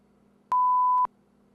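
An answering machine sounds a single steady electronic tone lasting about half a second, clear and alone against a faint low hum, right after the voicemail greeting ends.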